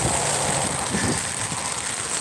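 Steady, even rain hisses close by, a dense continuous patter with no voices.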